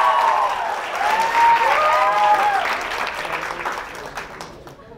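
Studio audience applauding a school team's score on a Catalan television quiz show, steady clapping with a few cheers from the crowd that gradually fades out over five seconds.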